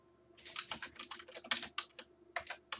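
Rapid typing on a computer keyboard, a quick irregular run of close key clicks with short pauses, quiet and alone.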